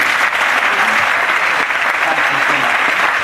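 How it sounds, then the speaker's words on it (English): An audience bursts into sustained applause at the close of an interview, a dense wash of clapping from many hands that holds steady at close range throughout. "Let's give her a round of applause."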